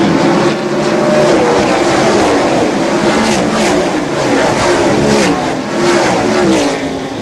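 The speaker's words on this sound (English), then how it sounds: "Fast trucks. Pretty trucks. Really fast, pretty trucks." NASCAR SuperTruck race trucks thunder around North Wilkesboro during the 1995 Lowe's 150, a loud, sustained roar of multiple engines passing close with shifting revs.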